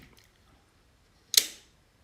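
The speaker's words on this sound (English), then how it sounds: "See that the shutter opened briefly." A camera shutter fires once with a sharp click-snap after near silence, a single brief mechanical burst with a short trailing decay.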